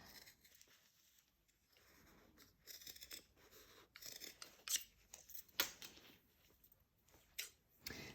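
Scissors snip through old denim with a series of crisp, close cutting crunches and ticks, irregular and quiet, with no voices.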